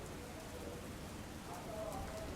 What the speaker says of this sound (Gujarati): ધોધમાર વરસાદ પડતા રસ્તાઓ પર પણ પાણી ફરી વળ્યા હતા